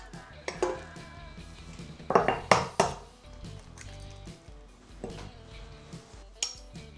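Eggs cracked for a pistachio cake batter in a home kitchen: sparse sharp taps and clinks of shell against a bowl rim, a few distinct knocks spread out and close up, with faint background hum and no talk.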